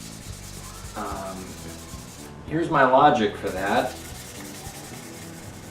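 Aluminum is hand-sanded with 1500 grit paper on a GS550 cafe racer build, giving a soft, close rubbing scrape in a brief burst beneath quiet room noise, then trailing off; a few words are spoken.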